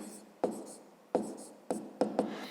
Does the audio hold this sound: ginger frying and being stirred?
no